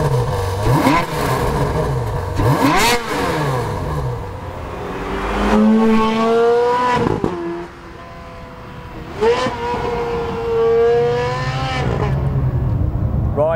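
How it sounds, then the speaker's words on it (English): Ferrari 430 Scuderia with its 4.3 litre engine accelerating on the road, loud revving that climbs repeatedly through the gears with sharp upshifts and brief dips between pulls, heard close from inside the car. "So here we are then, driving the Ferrari 430 Scuderia."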